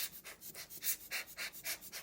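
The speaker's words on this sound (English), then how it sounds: "We're using the bulb blower and just hold the camera upside down" A rubber bulb blower puffs air into a vintage film camera held upside down, a rapid rhythmic series of about eight soft, breathy hissing bursts, close and fairly quiet.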